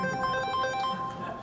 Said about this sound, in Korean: 쓸데없는 전화는 되게 오네.